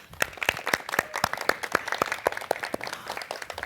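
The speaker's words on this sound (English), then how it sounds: "let's give a big round of applause to all of our teams that competed today" A smaller audience at a Black History Month quiz competition claps for the competing teams, individual sharp claps distinct in a quick, fairly regular rhythm, moderately loud and close.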